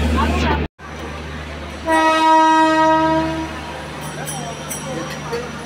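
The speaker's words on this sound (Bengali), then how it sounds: "একেবারে ট্রেন ছেড়ে দিল নির্ধারিত সময়ে।" The Puri to Howrah superfast express (12838) departs with a loud, sustained horn blast lasting about a second and a half, over steady low rumbling of the train and station.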